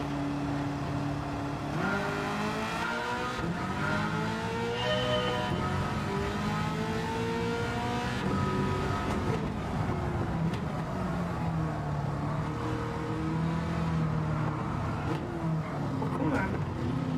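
A race car in Gran Turismo 7, running in a European Championship event, revs and accelerates with a steady, rising engine whine that shifts pitch through the gears, and a voice speaks over it throughout.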